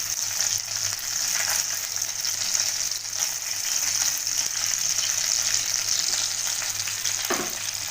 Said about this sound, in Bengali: বন্ধুরা দেখো মাছগুলো ভাজা হয়ে গেছে।